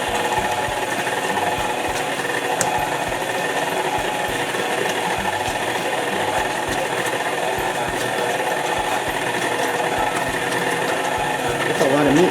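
A small stand mixer churns a large batch of meat during meal prep, giving a steady motor whir with rapid, regular knocking ticks throughout.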